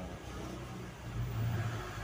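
A second-generation Honda CR-V engine with a modified thermostat idles with a low rumble, then swells briefly into a moderate rev before easing back.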